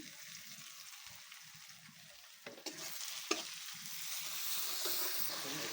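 Spices hit browned onions in a hot pan, making a soft, continuous sizzle while a spatula stirs and scrapes, with a couple of sharp clinks midway.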